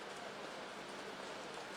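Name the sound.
heavy rain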